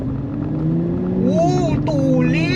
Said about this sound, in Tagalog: Rinig na rinig yung exhaust niya.